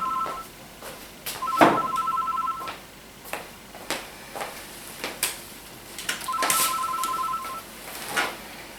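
A telephone rings in two clear double-tone bursts inside a home during an amateur theatre play, with knocks and thumps of movement between the rings and no talk.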